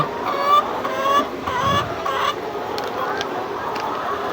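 Layer hens on a poultry farm clucking and calling at close range, repeated short clucks over a steady background of barn noise.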